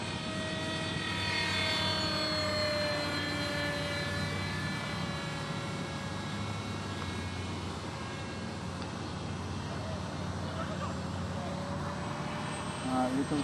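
A small propeller-driven model airplane flies overhead, its steady buzzing engine drone holding at a constant pitch for the whole stretch with slight shifts as it passes, while people talk over it.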